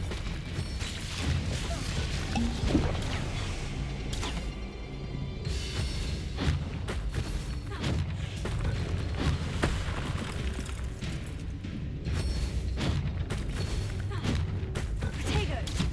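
Repeated Bombarda blasting-spell explosions and impacts in Hogwarts Legacy combat, a string of booms, thuds and crashes over sixteen seconds amid battle noise, with a voice shouting spell names throughout.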